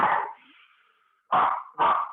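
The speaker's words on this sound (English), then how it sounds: "now the dog kicks off." A dog barks during an indoor Pilates class, one bark followed by a short gap, then two loud, close barks in quick succession, with no talking over them.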